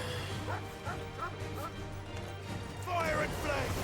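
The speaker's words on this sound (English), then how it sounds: "Dogs!" Dogs barking in Final Fantasy 16, a few yips and barks scattered over the game's music and ambient noise, moderately loud and brief.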